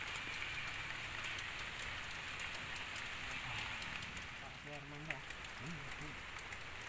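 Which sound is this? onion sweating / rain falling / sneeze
rain falling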